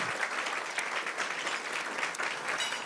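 Steady, dense applause from a crowd at a charity auction event fills the whole stretch, holding at an even level without pause or build.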